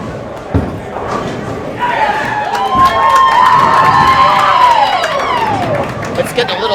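A bowling alley crowd at a high school team match yells and cheers loudly, building to a sustained roar of voices with a few high whoops and shrieks standing out before fading.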